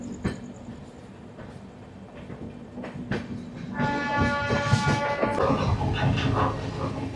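The Chennai–Howrah Mail running, quiet rolling and a few clanks at first, then a loud swell of wheel rumble and sustained horn-like tones as the train gathers noise, heard from on board.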